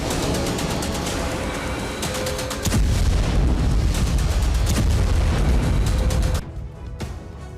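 Animated depiction of nine tonnes of TNT exploding at Beirut's Rafic Hariri International Airport: a loud, sustained rumbling blast that swells into a heavier roar around mid-clip, then cuts off abruptly into a quieter tail.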